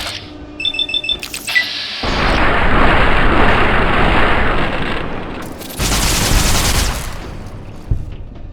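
Gunfire in the video game Fallout New Vegas: a few sharp shots and electronic beeps, then long loud sustained bursts of dense rapid fire, a brief pause, another heavy burst and a final crack.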